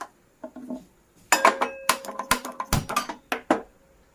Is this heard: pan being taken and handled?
yes